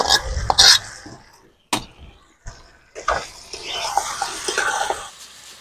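Pre-fried potatoes are tipped into a frying pan and stirred, making a few clattering thumps and scrapes followed by a rising, continuous sizzle, close and fairly loud.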